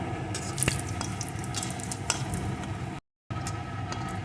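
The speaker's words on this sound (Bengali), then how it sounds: "এখন ফোড়নগুলো সুন্দর করে ভেজে নেব" A bay leaf, a dried red chili and whole garam masala frying in oil for chicken curry, a steady close sizzle with light crackles and faint stirring, cut by a brief total dropout; no one talks.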